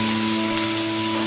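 Onion, garlic and tomato frying in a pan for a rohu fish curry, a steady even sizzle with a constant hum underneath, heard on its own.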